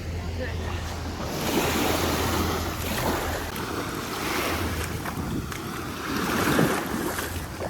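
Waves wash onto a beach on Sardinia's east coast under gusty wind buffeting the microphone, with the low drone of many small motorboats running nearby.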